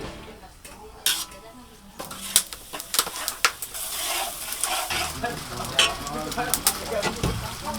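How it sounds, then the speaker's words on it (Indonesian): Shallot and garlic spice paste being sautéed, with clinking of utensils against a pan, stirring scrapes and a steady low sizzle, fairly close and moderately loud. "Bumbu kemudian ditumis."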